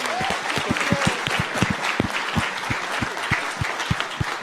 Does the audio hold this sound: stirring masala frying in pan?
no